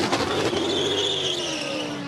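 A Cadillac race car engine screams past at Daytona with a loud, sustained high-pitched whine that shifts in pitch as it passes, heard alone and close.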